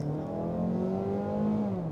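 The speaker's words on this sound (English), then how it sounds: "I really like the sound of the engine" A 2022 Mazda 3's engine revs in a steady, loud, close drone whose pitch climbs and then eases slightly, with no talking over it.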